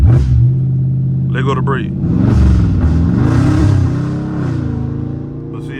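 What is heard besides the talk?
Dodge Charger engine revving on launch control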